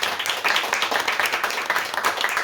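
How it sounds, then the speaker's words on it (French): A small audience at a French literary conference breaks into steady, dense applause, many hands clapping together without a break. "je souhaiterais qu'on applaudisse et qu'on remercie donc"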